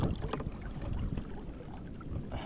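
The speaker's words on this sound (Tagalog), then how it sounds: "Grabe, nakalakas na hangin." Steady, rough wind roars and buffets the microphone continuously on a fishing boat, a dense low rumble with no voices.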